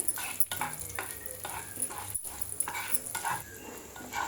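Spices sizzling and frying in hot oil in a pan for coriander curry, a steady crackle with a few short stirring scrapes and clinks, fairly close and with no talking.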